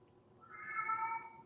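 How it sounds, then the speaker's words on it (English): A cat indoors lets out a single drawn-out meow in a quiet room, rising and then fading over about a second, fairly close and soft. "Sorry about the cat, guys."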